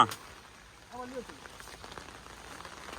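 Rain falling steadily outdoors during a storm that brought down a tree onto a road and power line, a soft even hiss throughout with a brief voice near the start.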